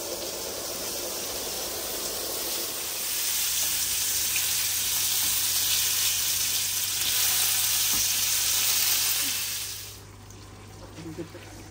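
Shutki (dried fish) bhaji frying in a pan, a steady hissing sizzle that holds for several seconds before dying down abruptly, with faint stirring clicks afterward.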